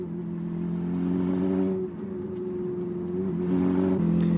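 Honda CB550 cafe racer motorcycle engine running steadily while riding on a rural road by a lake, a loud continuous mid-pitched drone that dips briefly near two seconds and climbs back up.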